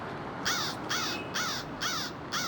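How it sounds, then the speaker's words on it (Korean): A crow caws five times at an even pace, each harsh call clear and fairly close over a faint background hum. "왜 자꾸 까마귀가 울어"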